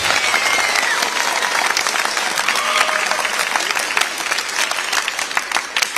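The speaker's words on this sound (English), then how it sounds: "Go ahead and give them a round of applause. One more round of applause." An audience at a school band concert gives loud, sustained applause, a dense wash of clapping that carries on without a break.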